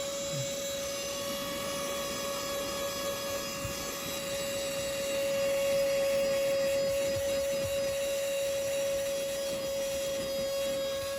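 Portable mini vacuum cleaner running continuously, a steady high-pitched motor whine with airy suction noise, close and unbroken, swelling slightly louder midway.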